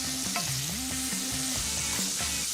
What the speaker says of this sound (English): Get that bacon really nice and crispy. Fry off the chilli and the garlic.